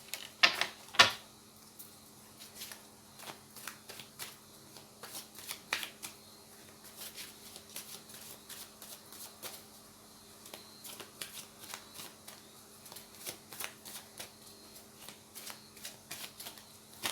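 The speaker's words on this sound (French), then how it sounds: "pendant que je passe les cartes" A deck of tarot cards is shuffled by hand close up, giving a long, quiet run of irregular soft riffles and flicks with a few sharper snaps near the start.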